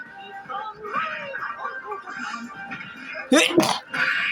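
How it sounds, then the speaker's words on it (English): A sudden, sharp sneeze bursts out loud and close after a stretch of quiet talking, followed by more speech. "Sorry, I had to sneeze."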